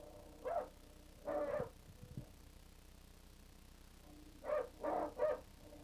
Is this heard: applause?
no